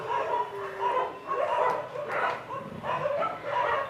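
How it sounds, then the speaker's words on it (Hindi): Several dogs bark and yip repeatedly in bursts, fairly close and steady throughout, with no talk over them. "कुत्ते बहुत भौंक रहे हैं आज।"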